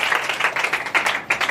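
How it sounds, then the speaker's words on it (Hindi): A church congregation claps enthusiastically, a dense close burst of applause lasting a moment. "जोर से ताली तो बजाओ"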